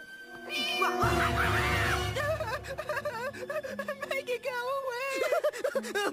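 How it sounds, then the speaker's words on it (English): A cartoon baby kitten meows in a run of high, wavering, drawn-out cries, layered over music and other animated voices. "It's just a baby kitten."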